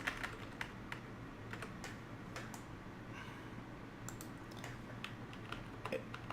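Computer keyboard keys tapped in short irregular bursts to erase entered numbers, faint and fairly close over a steady low hum, with no talk.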